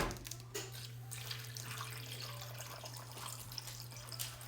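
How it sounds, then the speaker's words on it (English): Tap water pours steadily into a pot holding meat for a slow-cooked meal-prep dish, a continuous close splashing flow with no voices. "So let's get some water added"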